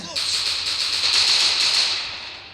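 Rapid automatic gunfire from a shooting video game, a sustained burst of bright crackling shots lasting a couple of seconds, loud and close.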